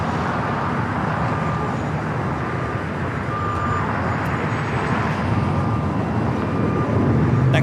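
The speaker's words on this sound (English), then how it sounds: "Next takeoff, flight heading to JFK, JetBlue Flight 524. It's an A321." A JetBlue Airbus A321 taking off from LAX, a loud sustained jet roar with broad rushing noise that stays fairly steady throughout, with a faint intermittent beeping tone in the background.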